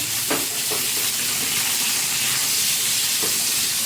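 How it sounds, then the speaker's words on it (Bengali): Pointed gourd slices frying with salt and turmeric in a pan, a loud, dense sizzle and hiss filling the whole moment, with a couple of faint stirring knocks. "একটুখানি নুন দিয়ে দেব আর একটু হলুদ দিয়ে দেব। এইভাবে এইগুলোকে দিয়ে একটু ফ্রাই করে নেব।"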